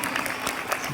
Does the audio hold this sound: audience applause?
yes